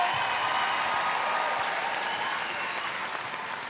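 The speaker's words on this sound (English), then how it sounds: "that gets a special cheer from the crowd" A netball crowd at the 2019 Netball World Cup match between Northern Ireland and New Zealand breaks into steady, dense applause and cheering that fills the arena, then eases slightly toward the end.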